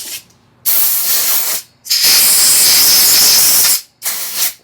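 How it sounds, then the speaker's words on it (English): Quick squirts from a spray can while servicing a Ryobi S430 four-cycle engine during a carburetor rebuild: three loud, close hissing bursts, the middle one longest, separated by short silences. "Give it a quick squirt."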